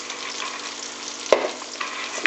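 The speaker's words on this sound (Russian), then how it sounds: "Она пожарится до красноты." Fish frying in a skillet, a steady close sizzle of hot oil with a couple of sharper crackles and pops standing out from the hiss.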